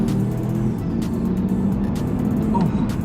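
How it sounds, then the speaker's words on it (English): A 2006 Jeep Commander with a 5.7 Hemi V8 accelerates hard, its engine giving a loud, steady low rumble with rising tonal drone, heard from inside the vehicle. "We're gonna get up to the speed limit kind of quick."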